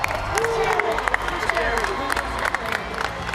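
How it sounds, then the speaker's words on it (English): Audience at a Fortnite event cheering and clapping, a dense crowd roar with scattered claps and shouts, voices rising over the general babble. "can we get a big cheer in the audience?"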